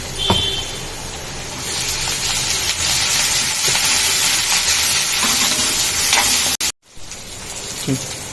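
Onion with turmeric and ginger-garlic paste frying in hot oil, a loud, continuous close sizzle with a few stirring clicks and a brief dropout near the end, with a voice speaking faintly.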